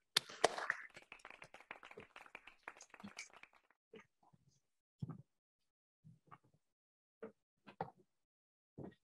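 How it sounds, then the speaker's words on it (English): Audience applause at a science-for-policy discussion event, a brief burst of clapping that quickly thins out into a few scattered claps and faint voices amid quiet. "Please join me in giving a round of applause to Aditi Joshi."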